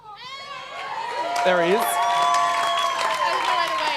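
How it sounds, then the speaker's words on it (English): A church congregation cheers, whoops and applauds loudly as a live video link appears on the screen during a service, with a voice speaking briefly at the start. "there was a massive cheer from heaps of single girls when you came up on the screen"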